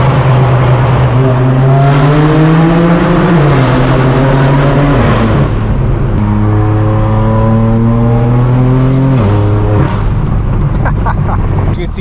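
A BMW M4 F82 with a loud exhaust drives through Los Angeles streets, its engine droning close and heavy, rising in pitch and dropping at each gear change through the run.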